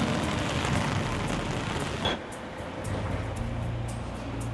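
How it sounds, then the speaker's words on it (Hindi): Heavy monsoon rain pours on a road in Lonavala, a loud, steady hiss close by, while a vehicle swishes past through the wet and another rumbles low near the end. "बारिश हो रही है जोर से and you know when vehicles जा रहे हैं द रोड इज शिवरिंग"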